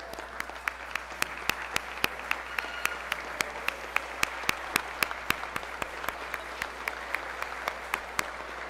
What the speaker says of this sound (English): Everybody stand up and give yourselves a round of applause,